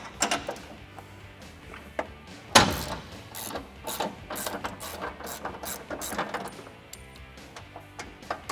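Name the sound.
ratchet removing nuts from studs on an F150 bumper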